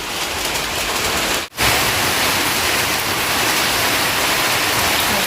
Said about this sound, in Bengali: এই তো বৃষ্টি আসছে